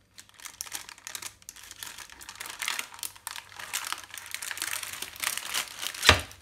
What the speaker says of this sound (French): on va enlever d'abord tout doucement le papier en le faisant glisser